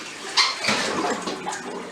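Water from washed collard greens poured out into a sink, a brief splashing gush with a louder burst near the start, then a steady trickling flow, close and alone.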